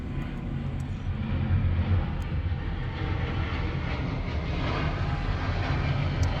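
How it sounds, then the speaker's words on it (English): Airplane passing over an airport parking lot at night, a steady broad engine roar that swells gently and holds throughout, fairly distant with no talking. "There's an airplane."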